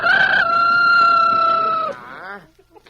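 A rooster crows loudly and close by, one long strained call that breaks off into softer clucking from the farmyard chickens as corn is thrown to them.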